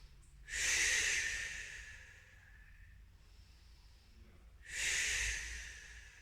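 Slow, deep breathing during a Pilates child's pose: two long airy breaths, each a soft hissing rush, close and fairly quiet, separated by a stretch of near silence.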